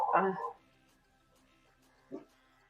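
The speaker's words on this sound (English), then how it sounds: "The dogs are barking." Dogs barking indoors: a loud burst of barks at the start, then a quieter single bark about two seconds later, with stillness in between.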